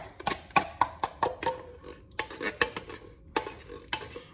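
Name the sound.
adding apple pie filling into cake mix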